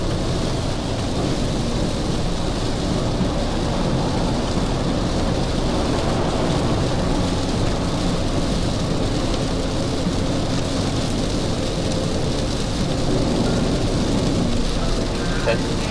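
Heavy rain drums steadily on a moving Proton eMas 5 car, heard from inside the cabin at around 110 km/h, a loud continuous wash of drops over low road rumble, with no talking.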